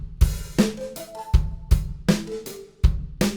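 Unprocessed drum kit from the free MODO drum plugin playing a steady groove: punchy kicks and snappy snares alternate in a regular rhythm with tonal tom-like accents, close and clear with no talking.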